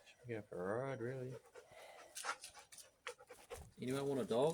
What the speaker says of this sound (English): Anyone want a dog?